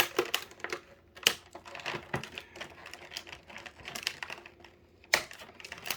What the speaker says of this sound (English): now I've got to try to cut this Batman out of here, because as usual we have got tons and tons of these plastic tabs.